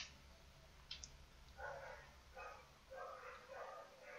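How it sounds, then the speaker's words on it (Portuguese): Several dogs bark in scattered bursts within a World War I shooter game, fairly faint and distant over a low constant hum, with a brief high chirp early on. "Olha os dog latindo que nem louco."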